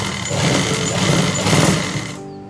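A sewing machine runs steadily as it stitches a trouser pocket, a continuous close mechanical whir that stops abruptly near the end.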